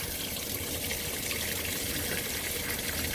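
A 2017 Speed Queen washing machine filling with rinse water, a steady close rush and hiss of water flowing into the drum, unbroken and alone.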